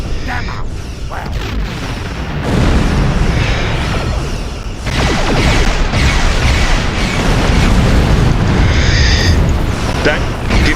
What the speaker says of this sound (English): that gives you a double torpedo hit